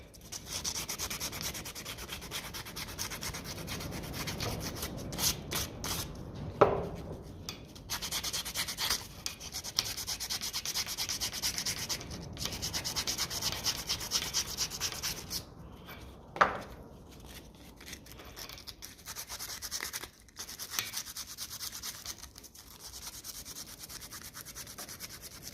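An ignition part from a 1957 Ferguson FE35 TVO tractor is rubbed with an abrasive, giving soft, close, repeated scraping strokes in short bursts with brief pauses and a couple of light knocks.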